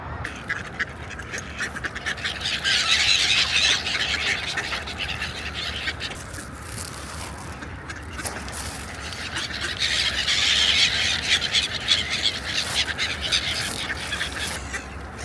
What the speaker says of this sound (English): I bought some bread today just to feed the ducks and geese what are here on the lake